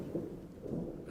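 A low rumble of thunder from a nearby lightning strike rolls on steadily, faint and muffled, with no voices over it.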